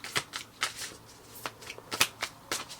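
Tarot cards are shuffled by hand in a quiet room, a series of quick, crisp riffling bursts repeating at an irregular rhythm, close and moderately loud with no talking.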